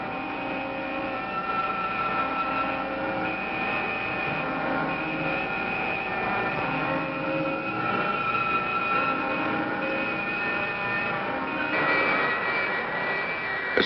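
Steady roaring engine thrust of a spacecraft in a 1965 sci-fi film, a continuous droning rumble with tonal whine layered on top, loud and unbroken throughout.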